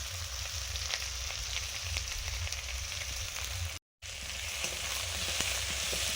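Onion, ginger and garlic frying in a pan, a steady close sizzle with faint stirring scrapes, briefly cut off near the middle before the sizzling resumes.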